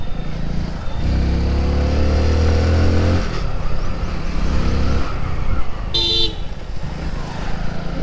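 A motorbike engine revs and pulls away up close, its pitch rising, with a brief high horn toot near the end.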